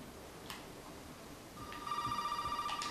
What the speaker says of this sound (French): Attends, on téléphone.